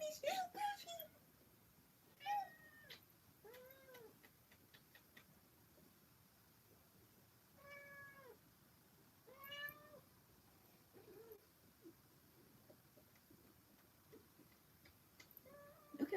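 A pet cat meows several times, short rising-and-falling cries spaced out across a quiet room, faint and near, with occasional soft ticks and rustles between them.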